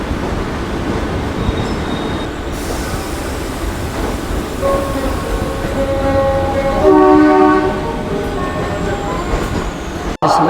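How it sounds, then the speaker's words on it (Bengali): A South Eastern line train pulls into Howrah station, a steady rumbling roll with rising tonal squeals and hums from wheels and carriages, loudest near the end before a sudden sharp knock. "সাউথ ইস্টার্ন লাইনের ট্রেন ঢুকছে।"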